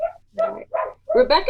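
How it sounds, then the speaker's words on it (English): Pet dogs bark and yip in short, loud bursts at a delivery, close by and mixed with a person talking over them. "Sorry, I don't know if you can hear my dogs."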